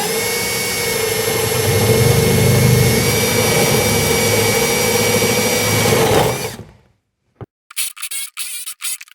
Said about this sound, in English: so I'm gonna have to drill that.